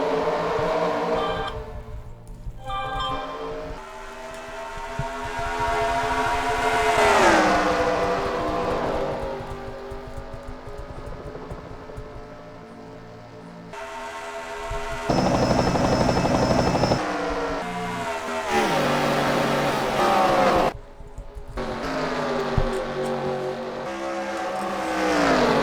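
Race cars roaring off the start at Darlington Raceway in a NASCAR-style sim race, engines rising and falling in pitch as they accelerate and pass, loud and continuous with brief dropouts and swells.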